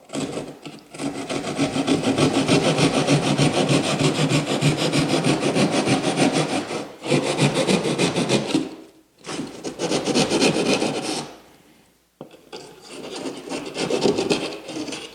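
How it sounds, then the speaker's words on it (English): A drywall saw cuts through a faux stone wall panel with loud, rough rasping strokes in long continuous bursts, broken by a few short pauses. "So I'll use a drywall saw."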